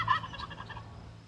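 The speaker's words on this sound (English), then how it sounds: "a whole flock of turkeys would come and would pass through the yard" A wild turkey in a yard lets out a quick, rattling gobble, a bright burst at the start that trails off into quieter warbling notes, heard fairly close and alone.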